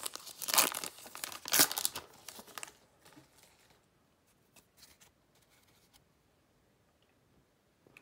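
Pokémon card booster pack foil wrapper torn open up close, with two loud crinkling rips at the start followed by faint rustling and handling.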